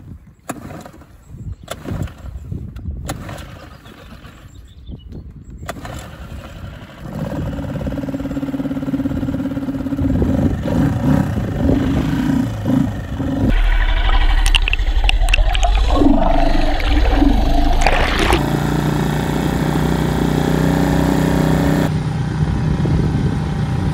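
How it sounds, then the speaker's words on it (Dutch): A small outboard motor on a rubber boat starts up and runs steadily near the water in a harbour, growing louder and rougher as it revs, with splashing around it. "kijken of de motor start."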